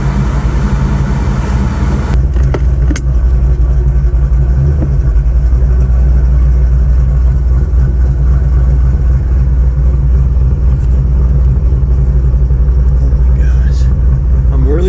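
The engine of a 1985 full-bolt-on Ford GT500 with NSR cams rumbles loudly and deeply at close range in a steady, choppy idle, with voices talking over it at times.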